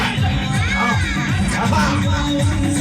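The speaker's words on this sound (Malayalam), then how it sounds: "ഒരു കൈയടിച്ച കാണികളാണ് കൈയടിച്ച" Spectators at a tug of war match in Kerala make a dense crowd roar, with shouting and cheering blended with babble, loud and continuous throughout.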